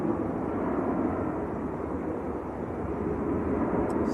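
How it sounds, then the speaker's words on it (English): A Saudi Boeing 787-9 Dreamliner in National Day livery arrives on runway 23L at Manchester Airport, a steady, moderately loud broadband engine roar holding evenly throughout with light wind noise and no talk. "787-9 Dreamliner."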